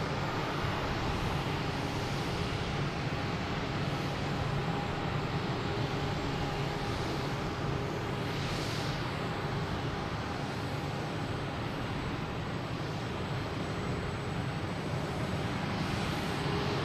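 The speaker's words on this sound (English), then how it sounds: "we have American Airlines E145 heading to Rochester" American Airlines E145 regional jet at Boston Logan Airport, a continuous broad engine roar holding steady from a moderate distance with faint surges, unbroken and without talk.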